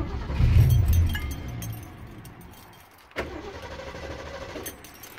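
A Ford Maverick engine cranks and catches after a cold breakdown, a loud low churning burst at first, then a sharp onset into a steadier running rumble, heard up close with no talk.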